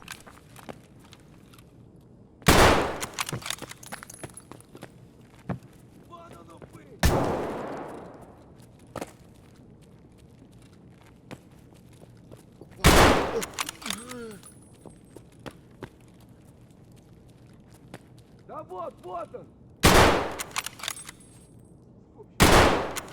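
Gunfire in the video game Escape From Tarkov, several sharp loud shots spaced seconds apart, each with a ringing tail, over a low ambient hum with faint footsteps and clatter.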